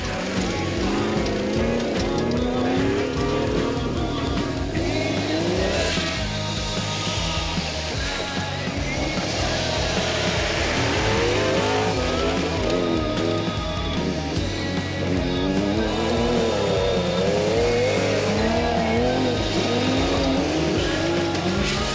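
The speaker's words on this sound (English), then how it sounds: "it was certainly entertaining to see the side-by-side action down the drag strip of the main straight" Race cars drag racing side by side down a circuit's main straight, engines roaring loudly and continuously with rising revs and some tire squeal, with crowd and voices faintly underneath.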